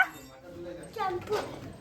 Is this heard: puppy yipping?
yes